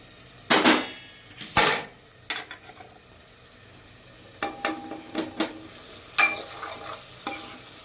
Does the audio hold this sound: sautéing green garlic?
yes